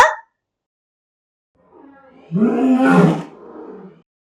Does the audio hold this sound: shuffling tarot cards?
no